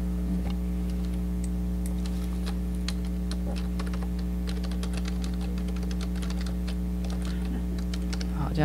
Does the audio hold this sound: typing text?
yes